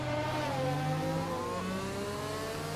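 A Red Bull Formula 1 car in F1 2020 approaches during qualifying at the Hungarian circuit, its high engine whine rising and sweeping in pitch as it closes in, loud and steady.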